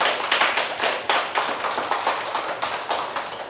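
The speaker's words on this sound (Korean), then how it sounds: "제가 박수 이제 유도 안 해도 알아서 치시네요" An audience claps at a Korean history talk, with uneven bursts of hand claps close by, swelling and easing in waves across the moment.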